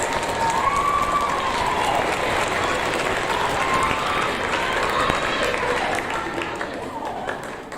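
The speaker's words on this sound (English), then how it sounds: "Let's give these students a round of applause" An audience at a sixth-grade awards ceremony applauds students with sustained, dense clapping that fills the room. The applause holds steady and tapers slightly at the end, with some voices mixed in.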